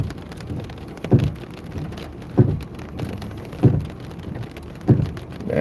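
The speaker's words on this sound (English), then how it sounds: "It is still coming at us. So we're going to backtrack, which is about the only thing we can do," Heavy thunderstorm rain pours steadily over a vehicle during storm chasing in Nebraska, a dense continuous wash broken by soft rhythmic thumps roughly every 1.2 seconds.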